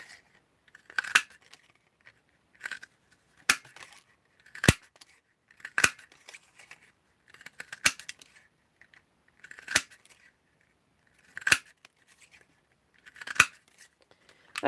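Scissors snip small pieces of paper at close range, about eight short crisp cuts spaced a second or two apart, with quiet handling between them.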